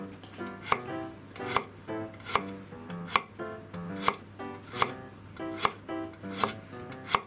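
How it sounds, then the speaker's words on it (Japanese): Steady knife chops slicing garlic into thin chips on a cutting board for garlic fried rice, about ten crisp, evenly spaced strikes close up with a faint background hum and no talking. "でニンニクをスライスしたら"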